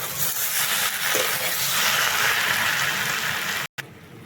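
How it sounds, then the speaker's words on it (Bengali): Spice paste frying with okra and fish roe in a pan: a dense, loud, rain-like sizzle that runs steadily, then cuts off briefly near the end. "এইভাবে মশলাটাকে একটুক্ষণ আমি কষিয়ে নেব"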